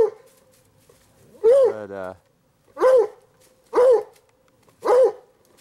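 Hunting dog barking at a raccoon treed above a creek during a coon hunt: four loud, evenly spaced barks, one drawn into a whining howl, close by with little else around.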